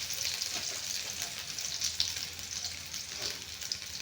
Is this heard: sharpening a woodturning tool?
no